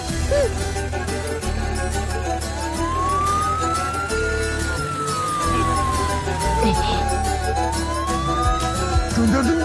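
A wailing ambulance siren rises and falls slowly over a loud, dense background of traffic and engine noise.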